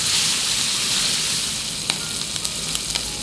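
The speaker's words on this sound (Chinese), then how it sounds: "黄油先给它下锅拢一下" Lobster meat sizzling in melted butter in a hot pan, a loud, steady frying hiss with a few small spatters and pops near the end, no one speaking.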